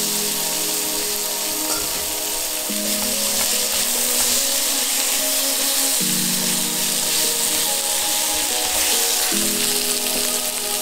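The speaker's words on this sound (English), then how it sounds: "Add some vegan kimchi and briefly fry it until fragrant." Vegan kimchi frying in a pan, a loud, steady sizzle and crackle heard up close, with occasional stirring shifts in tone throughout.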